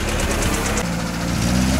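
A Lada Niva fitted with tractor-tread tires idles steadily up close, its low engine drone and light mechanical clatter continuous with a rising low hum toward the end, no voices present.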